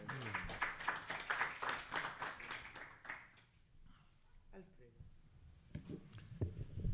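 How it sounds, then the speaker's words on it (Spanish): An audience at a national accounting law conference gives a panel a burst of close, crisp clapping that fades after about three seconds, followed by a few scattered claps and quiet room sounds. "Los recibimos con un aplauso."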